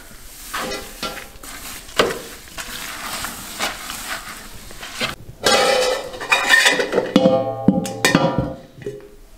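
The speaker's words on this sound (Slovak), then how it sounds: "Tak a trošku ešte premiešame našou novou nablískanou nerezovou vareškou." A new shiny stainless steel spoon stirs a homebrew beer mash in a brewing vessel, making continuous swishing and scraping with clinks of metal that grow louder and busier toward the end.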